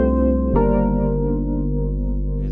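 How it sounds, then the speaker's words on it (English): Layered synth chords over a sustained bass line from Analog Lab, looping a simple four-bar ambient progression; dense, steady and full, with a brief swell midway and no talking. "I believe I used Analog Lab for these chords and the bass line."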